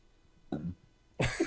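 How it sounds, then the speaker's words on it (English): A man gulping down a gallon of milk lets out two short, gruff burps close by, separated by a brief pause, with no talking. "those burps are good burps"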